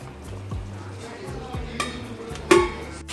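A lid is set on a pot of simmering kaima (minced-meat ball) sambar, giving one bright metallic clink near the end after softer clatter, with talk underneath.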